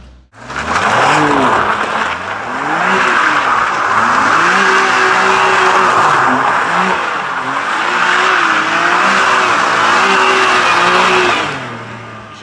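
BMW M2 Competition drifting, tires squealing continuously for about eleven seconds while the engine revs rise and fall in long sweeping waves, loud and close, with no talking.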